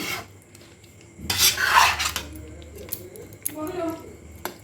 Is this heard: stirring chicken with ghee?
yes